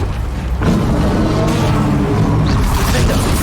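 Confringo, an explosive spell in Hogwarts Legacy, detonating mid-fight: a loud whooshing blast swells after a short lead-in, followed by a rumbling, crackling tail amid ongoing battle noise.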